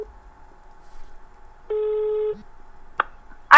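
Telephone line signals: a steady dial tone, then a louder sustained tone and two sharp bursts near the end that form a double ring, heard close and clear on a prank call.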